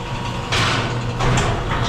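A hangar-style shop door prototype is lowered by hand, producing a loud sliding, rumbling scrape in two surges over a low steady hum.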